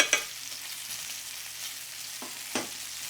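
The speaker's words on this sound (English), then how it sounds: "I'm going to stir that up." Soy sauce and ketchup glazed chicken drumettes sizzle steadily in a hot pan, with a couple of brief scraping clicks as they are stirred; no one speaks.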